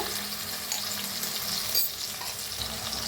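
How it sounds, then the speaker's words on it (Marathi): Chopped onion with garlic and ginger paste frying in oil in a pan, heard as a steady, dense sizzle close by with a few faint stirring scrapes, no talking. "आता मिक्स करून ना छान असं भाजून घेऊया कांद्याला"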